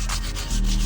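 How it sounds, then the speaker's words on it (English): A brake caliper sanded by hand with 80 grit sandpaper, quick rasping back-and-forth strokes, close and loud, with no voices. "80 grit I'm using. Shave it right off. Give it a good sand."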